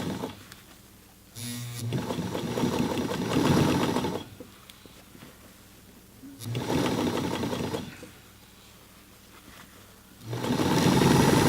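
A Singer 237 sewing machine stitches a jeans hem in three loud, rapid bursts of needle chatter, separated by quiet pauses as the fabric is repositioned, heard up close.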